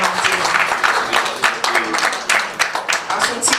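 Congregation members at a Sunday church service clap in scattered, uneven bursts that come and go, moderately loud, mixed with voices and cheers.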